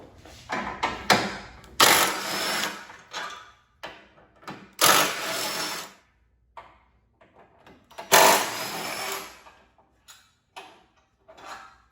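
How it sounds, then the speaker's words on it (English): A heavy-duty impact wrench with a 15mm socket hammers radiator bolts loose on a Fiat 500 Abarth, firing in three loud bursts of about a second each, with quieter clicks and handling noises between them. "I'd recommend a heavy duty impact to remove them."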